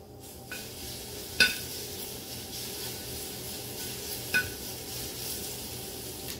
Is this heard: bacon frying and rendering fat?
yes